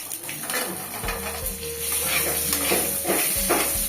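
Cut small mangoes sizzle in a pan of oil tempered with black mustard seeds and salt, with a steady frying hiss, scraping stirs and clinks of a utensil against the pan close by.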